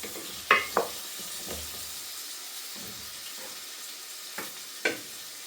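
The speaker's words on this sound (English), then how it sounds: "I'm going to add the drained stewing steak onto this frying pan so that we can brown it." Stewing steak and vegetables in a frying pan, heard as a quiet, steady background hiss with a few sharp clacks and scrapes from stirring, close and unaccompanied by speech.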